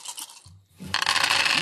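Dice tumbling and clattering across a table during a tabletop role-playing session, a brief rattle, a short pause, then a louder, sustained scraping roll close by, with no talk over it.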